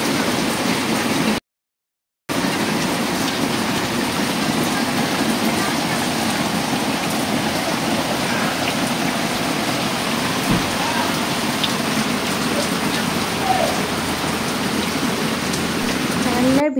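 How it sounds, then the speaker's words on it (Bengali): Heavy rain pours down outside with wind, captured from just inside a window as a dense, loud, unbroken hiss that continues throughout, broken only by a momentary dropout early on. "দাঁড়াও তোমাদেরকে একবার শুনিয়ে নিয়ে আসি এখন বৃষ্টির আওয়াজটা ঠিক কীরকম লাগছে।"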